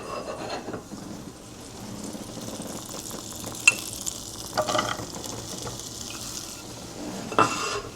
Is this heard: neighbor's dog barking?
no